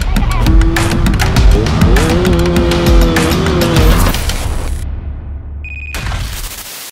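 Yamaha F1ZR two-stroke motorcycle fitted with an aftermarket exhaust on a dyno, loud close engine revving with rising and falling pitch, then an abrupt cutoff and a brief restart of roaring.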